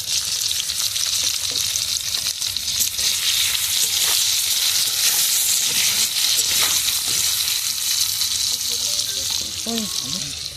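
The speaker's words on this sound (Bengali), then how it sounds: "একটু হলুদ গুঁড়ো দিয়ে দেবো, ভালো করে ভেজে নেব" Brinjal and potato fry with turmeric powder and salt in a pan, sizzling loudly and steadily up close with occasional stirring scrapes and a brief voice at the very end.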